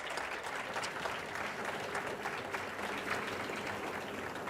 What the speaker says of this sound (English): so let's applaud Professor Herbst.